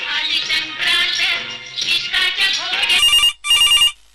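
A telephone rings twice in bright electronic bursts near the end of a stretch of busy, tonal sound, as a listener's call comes into an All India Radio Amravati phone-in program.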